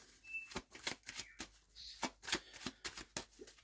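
Oracle cards shuffled by hand for a three-card draw make quick, crisp riffling slaps in uneven bursts, close up and quiet, with no talking.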